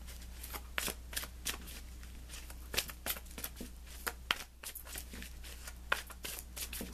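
Tarot cards are shuffled close by in a quick run of crisp riffling snaps and soft shuffles over a low background hum, with no talking.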